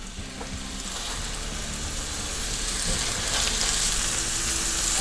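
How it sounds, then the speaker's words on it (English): Duck breasts sizzling in a very hot skillet: a loud, continuous close frying hiss that swells slightly over the few seconds, with no voices. "You're going to hear the sizzle here because this skillet's super hot."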